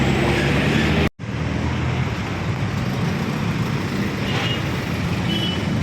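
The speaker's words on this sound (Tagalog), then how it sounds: "Lalaki po ng truck." Heavy road traffic with large trucks passing on a busy highway at Balagtas, Bulacan, a steady loud broadband roar of engines and tires that drops out briefly near the start, then continues unbroken.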